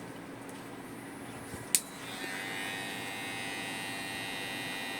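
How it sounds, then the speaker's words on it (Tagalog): Electric hair clipper buzzing steadily during an undercut haircut, a sharp click near the start and then a continuous close hum with no talk. "Okay, ginagamit yung clipper."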